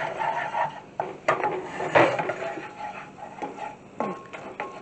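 Spoon scraping and knocking against a pan while flour is stirred into a mixture, irregular rubbing strokes with a few clinks, close and alone.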